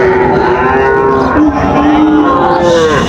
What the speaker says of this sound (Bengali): শাহিওয়ালের বাচ্চা, ষাঁড় বাচ্চা